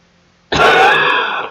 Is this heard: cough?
yes